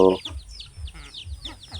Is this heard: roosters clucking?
yes